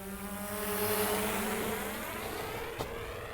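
An Autel EVO drone flies at ludicrous speed with a loud, steady high-pitched whine and jet-like rushing roar, its pitch easing slightly as it passes, with a brief click near the end.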